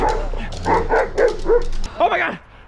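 Several dogs bark and yip excitedly in short rapid bursts close by, mixed with people shouting and cheering over them during a backyard Nerf clown chase game.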